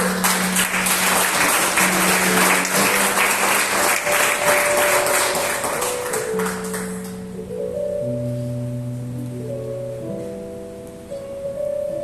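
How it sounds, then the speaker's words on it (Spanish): A church congregation claps loudly for several seconds, then the applause fades out while sustained keyboard or organ chords carry on alone, gently shifting in the quiet that follows. "Dale un aplauso a mi baby rey."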